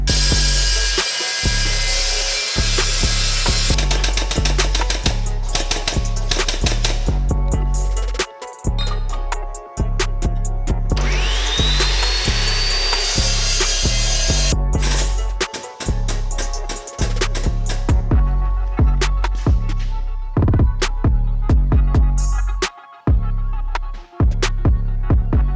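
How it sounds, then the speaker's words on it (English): A chunk of scrap steel is cut with a loud power tool for a Land Rover Discovery differential cover. The tool screams almost without a break, with brief pauses and a rising whine partway through. "I'm just gonna cut a chunk of steel."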